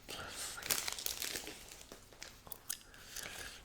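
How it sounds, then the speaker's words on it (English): Crinkling and tearing of a football card pack wrapper being opened, close and crisp in irregular bursts, with soft whispering and gum chewing mixed in. "One of these days I'm going to learn how to open up packs of cards."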